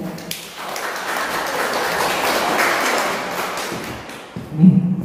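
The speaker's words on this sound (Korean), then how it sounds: "박수를 받아주세요" An audience applauds at a lecture on tea culture and philosophy, a broad, even wash of clapping that swells and fades, followed by a brief thump near the end.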